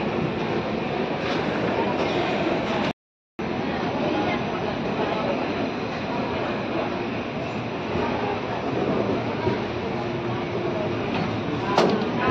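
Train running at low speed, heard from an open carriage door on a journey from Kharagpur toward Pune: a loud, steady rumble with a short cut near the start, and a voice speaking over it.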